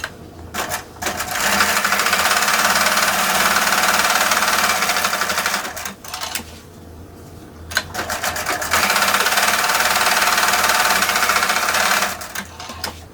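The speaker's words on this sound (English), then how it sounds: "you're going to sew down each side 1/8 inch from the edge and backstitch when you start and when you stop" A sewing machine stitches down the sides of a pouch made from a men's shirt cuff, running in two long, loud, steady bursts of close mechanical whirring with a short pause and brief stops between them.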